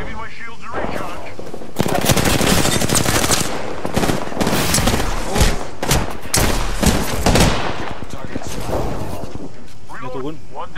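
Heavy gunfire in a battle royale video game: loud, rapid automatic bursts and clustered shots lasting several seconds, with a voice speaking before and after the barrage.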